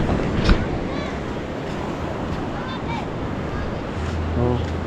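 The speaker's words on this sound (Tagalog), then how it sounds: "Pag tuwing umaga talaga hanggang tanghali, malaki ang alon." Steady roar of ocean surf fills the recording, with wind buffeting the microphone and a voice faintly audible at times.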